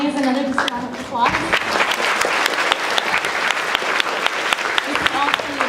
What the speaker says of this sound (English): Their families, another just round of applause.